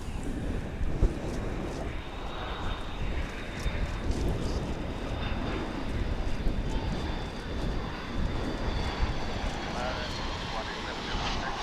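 Airliner roaring on its takeoff run at DFW airport, a broad, steady engine rumble with wind buffeting, while voices and tower radio chatter carry over it.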